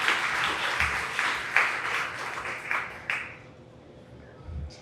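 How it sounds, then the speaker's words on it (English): An audience at a county fair opening ceremony applauds the American Legion with scattered, uneven clapping that swells in bursts, then thins out and fades to near quiet. "Let's give our American Legion and Commander Liga another round of applause"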